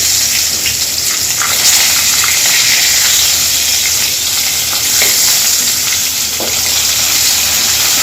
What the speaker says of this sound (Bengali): একটু ভাজা হোক মাছটা